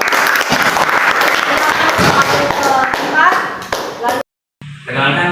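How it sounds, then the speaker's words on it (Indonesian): Classroom applause for a student group, a dense burst of many hands clapping close by with mixed chatter over it, briefly cutting out near the end before resuming. "kita tepuk tangan untuk kelompok."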